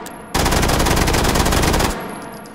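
A MAC-11 machine pistol in the VR shooter H3VR emptying a rapid full-auto burst into the ceiling, a loud, dense rattle lasting about a second and a half that stops abruptly and leaves a faint ringing tail.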